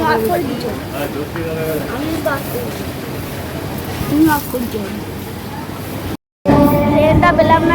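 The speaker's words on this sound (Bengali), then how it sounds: "ট্রেনটা চলে যাচ্ছে আমাদের সামনে দিয়ে" A train rolls past close by with a broad rumbling roar. People talk over it throughout, and there is a brief cut near the end.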